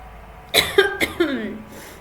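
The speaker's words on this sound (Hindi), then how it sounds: "खांसी भी हुई है" A man with a cold coughs close to the microphone in a classroom-style math lesson, a short burst of two or three harsh coughs.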